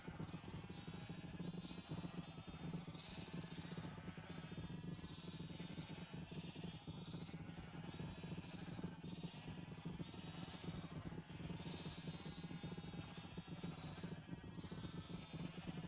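Sheep bleat in the Minecraft video game, a series of repeated, faint calls over a steady background, with no speech heard.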